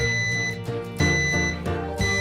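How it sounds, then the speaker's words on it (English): Talking smoke detector sounding its alarm, a loud repeating tonal beep pattern with sharp pulses roughly every half second to second, close and clear with no speech. "We invented the talking smoke detector."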